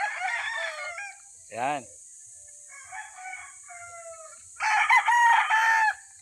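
A rooster on a backyard farm crows once in a clear, rising and falling call, with softer clucks and fowl noises around it and brief speech in between, then a louder burst of clucking near the end.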